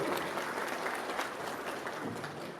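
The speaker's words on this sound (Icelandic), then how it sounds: "Við skulum gefa hann svolítið klapp þegar standa upp." An audience at an accordion festival in Ísafjörður claps for an accordion player, sustained, even applause filling the room for a couple of seconds.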